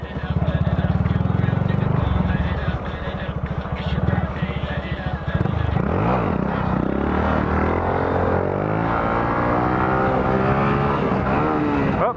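Small Honda Grom-style motorcycle engine revving hard during a stand-up wheelie, a loud sustained drone with rising and falling pitch, close to the microphone, with voices talking over it.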